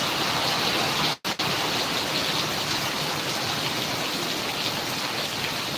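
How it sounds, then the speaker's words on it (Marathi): Heavy rain pours down in a dense, unbroken hiss, with one brief dropout near the start. "भरपूर पाऊस चालू आहे मित्रांनो"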